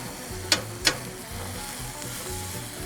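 Onions on an Argentinian-style grill sizzle steadily up close while two sharp scrapes of a spatula stir them early on, then the hiss settles back to a constant fry.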